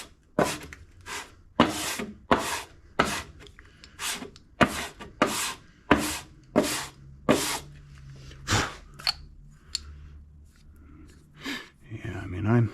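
Sandpaper rasping across the warped head and block of a John Deere X540 mower, a dozen or so firm rhythmic strokes up close, with brief pauses and quiet talk between passes.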